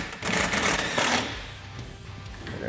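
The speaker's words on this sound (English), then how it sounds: "We're going to go ahead and shoot a screw in." A power drill drives a self-tapping screw into a Can-Am Defender UTV's metal skid plate, giving a close, loud, steady whir that runs for about a second and then settles into a quieter, fading hum.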